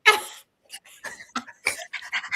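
A voice imitates a dog panting, a string of short, breathy huffs in quick irregular bursts, fairly close and moderately loud, following a louder opening breath.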